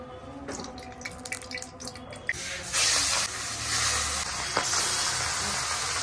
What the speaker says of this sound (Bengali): কড়াই তেতে গেছে, তেলটা দিয়ে দেবো।